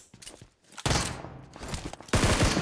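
Gunfire in the mobile battle royale game PUBG Mobile, dense bursts of rapid shots that come in loud waves with brief lulls between them, with no talk over them.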